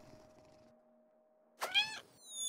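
A cat meows once in a video game, a clear, drawn-out, close meow rising over a faint steady electronic hum, followed by a rising game tone.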